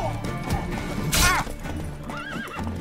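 A horse whinnies loudly with hooves clopping, alongside clashing effects, bandits on horseback in the video game The Witcher III: Wild Hunt.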